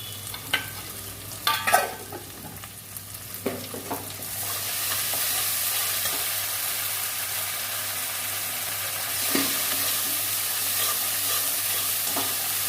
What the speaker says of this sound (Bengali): মশলাটা ভাজা হয়ে গেছে সর্ষে বাটা দেবো সর্ষে আর কাঁচা লঙ্কা